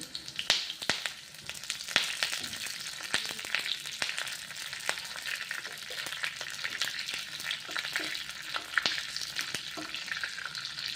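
Curry leaves and slit green chilies crackle in hot oil for a khandvi tempering, giving a close, continuous sizzle scattered with sharp pops and occasional stirring.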